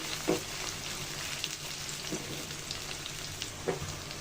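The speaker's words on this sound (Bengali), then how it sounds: "পেঁয়াজটা একটু ভেজে নিব, বেরেস্তার কালার করব না।" Onions fry in oil with garam masala for a beef rezala, a steady close sizzle with a few light stirring knocks spaced through it and no speech.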